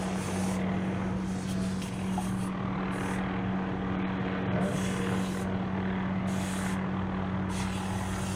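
A police helicopter hovers over a residential neighborhood, its rotor and engine giving a steady, moderately distant drone with a constant low hum throughout and no talking.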